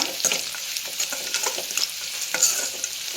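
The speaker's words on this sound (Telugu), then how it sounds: "ఇది మొత్తం ఫ్రై అవ్వాలి మంచిగా గోల్డ్ కలర్ రావాలి ఫ్రై అవుతున్నాయి" Curry stirred and frying in a pan for an Andhra-style uggani tiffin, a steady close sizzle with repeated scraping stirs of the spoon, no talking.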